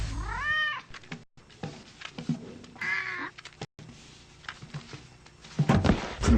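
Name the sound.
cat meowing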